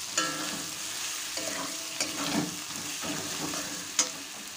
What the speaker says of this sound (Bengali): এবার আমি আলুটা দিয়ে দেব। আলুটা দিয়ে আরেকটুক্ষণ নেড়ে চেড়ে নেব।